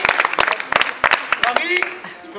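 An audience claps for a volunteer named Marie at a live show: sparse, uneven handclaps in short bursts that thin out toward the end, with people talking over them.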